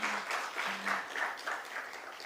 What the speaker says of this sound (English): let's have a thunderous round of applause for GNG Electronics Limited